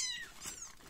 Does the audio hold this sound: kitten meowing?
yes